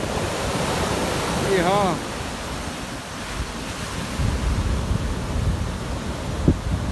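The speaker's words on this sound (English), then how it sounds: "the wave is hitting those pilchards, spreading that sand out" Surf rolls up a beach where baited pilchards lie on the sand, with a steady close rush of water and wind buffeting the microphone, and a brief shout at one point.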